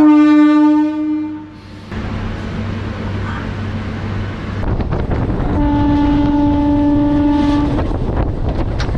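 A suburban train on the Chengalpattu to Chennai Egmore route rolls toward Egmore station, with a loud horn blast at the start, steady rumbling wheels and carriages, and a second long horn sounding later.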